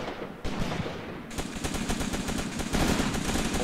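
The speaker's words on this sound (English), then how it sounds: "Starodutsev throwing a grenade." Gunfire crackles in a Graviteam Tactics trench battle in the snow as a grenade is thrown, rapid machine-gun bursts and sharp shots fairly close, with heavier bangs toward the end.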